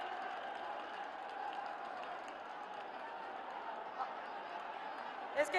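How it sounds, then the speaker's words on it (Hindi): A large crowd at a Prime Minister's rally on an open ground in Rudrapur claps in a steady, distant wash of applause that holds evenly throughout and stays faint. "जोरदार तालियों के साथ में"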